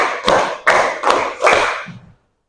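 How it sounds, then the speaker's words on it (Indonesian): Four sharp bursts of group clapping in a classroom, evenly spaced and loud, each decaying quickly, with a brief soft patter before silence at the end; no talking. "Tepuk 1, tepuk 2, tepuk 3, tepuk 4, tepuk 5."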